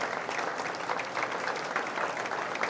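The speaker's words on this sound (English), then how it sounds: "Let's give them all one more big round of applause." A crowd at a 4-H fair swine show applauds the division champions with even, sustained clapping from many people in a large space.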